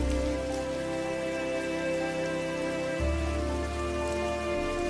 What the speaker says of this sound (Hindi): बाहर तेज बारिश है